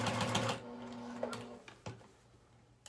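A sewing machine fitted with a walking foot stitches a quilt seam, a soft mechanical whir for about half a second, then fading and settling into a few faint ticks and clicks.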